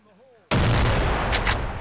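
Sniper rifle shot in the Crisis Action shooter game: one sudden loud blast that cuts in after a quiet stretch and stays dense and roaring, with a brief sharp burst near the end.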